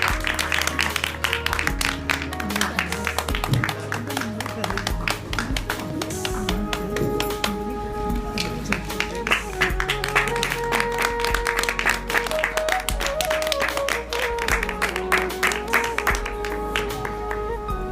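Dense applause fills an award ceremony hall as a woman comes up to receive her certificate, with many hands clapping steadily and loudly throughout.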